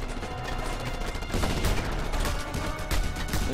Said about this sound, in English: They're still shooting me.